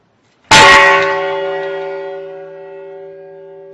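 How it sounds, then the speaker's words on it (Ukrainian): A single loud strike of a peace bell rings out, its deep metallic tone sustaining and slowly fading over several seconds. "Потім відбувається удар дзвону миру"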